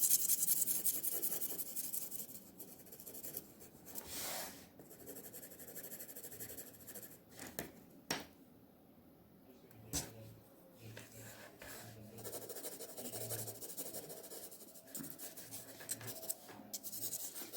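A graphite pencil held low and shading on paper with the side of its tip while sketching a still life, soft close scratchy strokes repeating at an uneven pace, quiet and alone.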